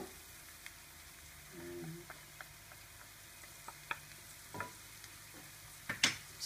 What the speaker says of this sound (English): So just stir it in so it's nicely combined with the onion and the bit of oil that's in the pan.